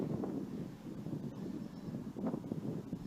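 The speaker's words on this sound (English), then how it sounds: "So the wind's picking up quite a bit." Strong outdoor wind buffets the microphone in continuous low rumbling gusts, loud and close, while a WLToys V303 Seeker quadcopter hovers nearby.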